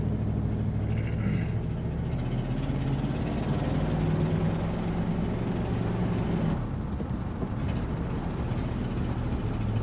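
A 1963 Cadillac Coupe DeVille engine runs steadily with a low, continuous rumble, close by and fairly loud, with no voices.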